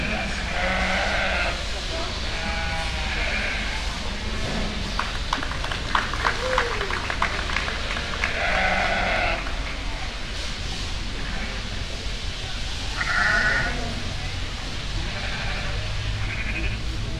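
Several sheep bleat at intervals amid a busy arena crowd at a breeding sheep show, the calls moderately near and repeating over steady background chatter and a public-address voice.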